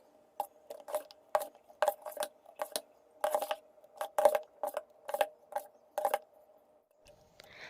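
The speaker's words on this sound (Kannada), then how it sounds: "ಇವಾಗ ಸ್ವಲ್ಪ ಈನೋವನ್ನು ಹಾಕ್ಕೊಂಡು ಚೆನ್ನಾಗಿ ಹಿಟ್ಟನ್ನು ಮಿಕ್ಸ್ ಮಾಡ್ಕೊಳ್ತೀನಿ" Spoon clacking rhythmically against a steel bowl while idli batter is stirred with Eno, a steady run of close, bright metallic strokes about twice a second with short pauses.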